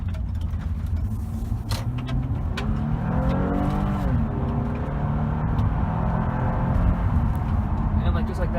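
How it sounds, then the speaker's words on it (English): A 2014 Toyota Avalon accelerates under throttle from inside the cabin, its engine drone swelling and rising steadily in pitch, loud and continuous with a voice talking over it. "I'll give it some gas here."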